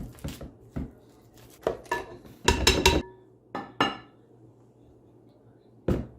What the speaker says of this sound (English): Go ahead and mash our bananas.